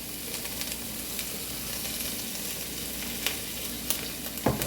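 Food frying in olive oil in a pan, a steady close sizzle with a few sharp crackles and a utensil tap near the end, no talking.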